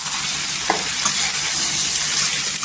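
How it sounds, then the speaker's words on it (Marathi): Cluster beans with roasted peanut powder frying in oil in a pan, giving a steady sizzle with a few scraping stirs of a spoon, close and continuous with no talking. "पूर्णपणे अशी तेलावर परतून घ्यायची आणि मिक्स करायचं, एकजीव करायचं."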